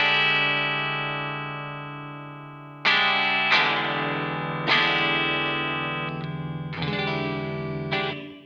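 Electric guitar on a clean tone with light reverb, run through a Wampler compressor: one long chord rings out and fades, then several more chords are struck in turn, each sustaining and decaying smoothly, played alone.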